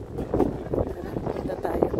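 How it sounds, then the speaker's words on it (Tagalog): Wind buffets the microphone in a low, rumbling roar at night in San Gimignano, Tuscany, with muffled voices talking faintly beneath it. "lakas ng hangin galing dyan."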